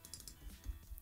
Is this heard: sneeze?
no